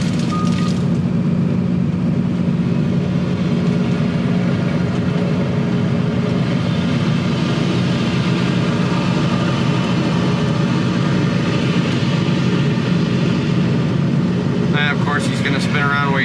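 An excavator fitted with a tree shear working on lot clearing, its heavy diesel engine droning loud and steady throughout, with a brief high beep near the end.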